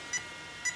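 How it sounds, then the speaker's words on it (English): Electronic speed controller on an Arrma Kraton 8S monster RC car sounding a sensor-lost warning: two short, clear tonal beeps about half a second apart, fairly faint and alone. "it's still giving me the three beep warning"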